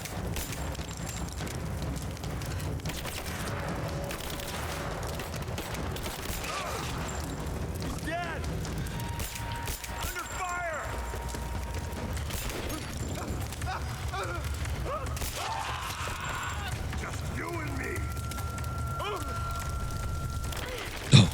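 Gunfire in a firefight in the video game Rise of the Tomb Raider, with sharp shots and bursts over a rumbling game soundscape, mixed with mechanical clanks and shouting voices.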